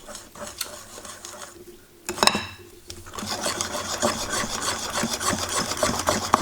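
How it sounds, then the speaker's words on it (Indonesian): Pancake batter of flour, water and milk is stirred by hand to work out the lumps, a steady close rasping and rubbing against the bowl that pauses briefly, then resumes continuously. "pokoknya diaduk selama 5 menitan gini sampai benar-benar gumpalan tuh hilang"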